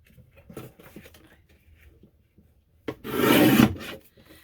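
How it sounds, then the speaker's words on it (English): A box cutter slices paper against a ruler while making a journal: a short, close rasping scrape of under a second stands out after quiet handling rustles and soft taps. "a ruler and a box cutter and just cut it to the size that you need"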